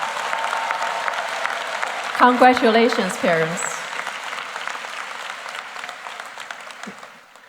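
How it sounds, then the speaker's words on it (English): A graduation audience at the Edison High School commencement applauds the parents. The clapping is broad and steady under a speaker's amplified voice and gradually fades toward the end. "let's give our parents a big round of applause"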